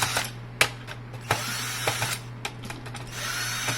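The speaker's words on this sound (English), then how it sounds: "there's a couple screws at the back. So once you unscrew these" Screws are being undone at the back of a car's Sync2 head unit module, producing a scattering of faint, irregular clicks and ticks over a low steady hum in a quiet space.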